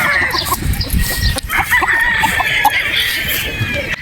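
Boston Roundhead brood stag roosters crow loudly and close, with drawn-out calls layered over busy clucking and a general flock bustle.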